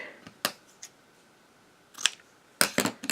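Scissors cutting out a paper card decoration, a few sharp close snips spaced irregularly, with quiet pauses between the cuts.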